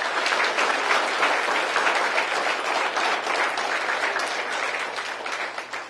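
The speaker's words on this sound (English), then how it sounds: "Let's give these guys a round of applause" A room full of people at a sheriff's office Explorer program event applauding steadily for several seconds, dense even clapping that tapers slightly toward the end.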